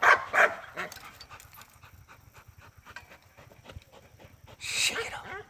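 A dog panting close up after exercise in quick, rhythmic breaths, with a couple of louder huffs at the start and end and a faint background hum.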